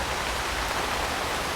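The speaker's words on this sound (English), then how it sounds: "Plenty of rain." Steady rain falls through tropical woodland on muddy trails in a Singapore nature reserve, a dense, even hiss of drops on leaves and ground that holds at the same level throughout, with no voices.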